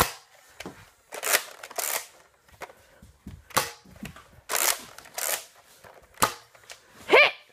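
Nerf blasters firing foam darts during a first-person game, a series of sharp snapping shots spaced irregularly, some in quick pairs, close and fairly loud.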